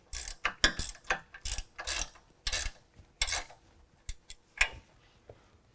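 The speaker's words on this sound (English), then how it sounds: "We'll tighten those up with an 18mm" A ratchet with an 18mm socket tightens suspension bolts on a 2018 Jeep JL two-door during a Superlift 2.5-inch lift install. Close, sharp bursts of rapid clicking come in several short runs with brief pauses, and no one speaks.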